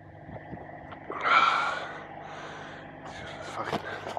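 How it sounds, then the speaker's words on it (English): Heavy panting after physical exertion at a boiler site, a sharp gasping breath near the mic rising then fading into quieter ragged breathing, with faint background noise throughout. "Yes, I'm fucking panting."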